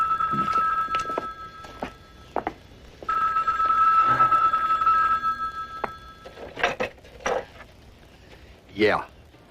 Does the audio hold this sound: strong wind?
no